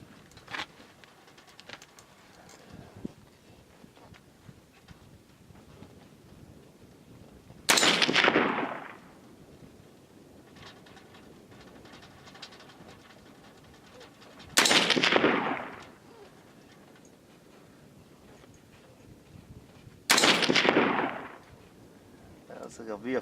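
.223 rifle firing full metal jacket rounds outdoors over a chronograph, with three loud, sharp shots spaced several seconds apart against a quiet background.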